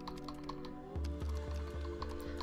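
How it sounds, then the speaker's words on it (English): Computer keyboard keys are struck repeatedly at a quick, even rhythm, the same key pressed again and again, close and clear over background music, with no one talking. "I just keep typing F over and over again."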